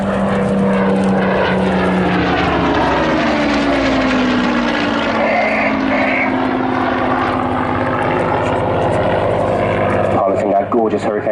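A Hawker Hurricane LF363 propeller fighter flies at the Southport Air Show, its loud engine drone sweeping past, with the pitch sliding downward as the aircraft passes before easing off.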